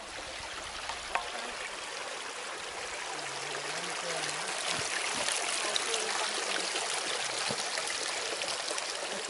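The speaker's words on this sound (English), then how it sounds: "We finally reached the stream we were going to get to." A mountain stream near Lake Laceno flows in a steady, broad rush of water close by, with a faint low voice in the background.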